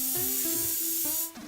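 An airbrush sprays paint in a loud, continuous hiss for just over a second, broken by faint ticks, then drops away to a softer sputter.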